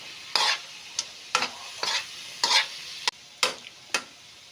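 A spatula stirs sautéed radish with pepper and salt in a pan: about eight distinct, evenly spaced scraping strokes over a quiet sizzle, close up and with no talking.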